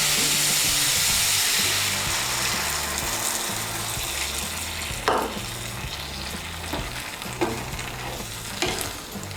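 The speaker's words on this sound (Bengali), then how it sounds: "এখন এর মধ্যে আমি দিয়ে দেব জল। আমি এর মধ্যে 1 কাপ জল দিচ্ছি।" A cup of water is poured into a hot pan of frying tomato, where a loud, steady sizzle and bubbling hiss fills the pan, with a few brief stirring scrapes breaking through.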